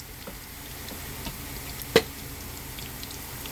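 Celery frying in a hot pan, a soft steady sizzle heard close, with one sharp clink of a utensil partway through.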